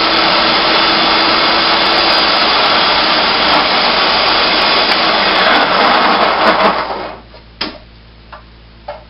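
A food processor grinds a no-bake coffee cake mixture with coconut oil, lemon juice and honey in a loud, steady whirring roar for about seven seconds. It then cuts off, leaving a few faint clicks.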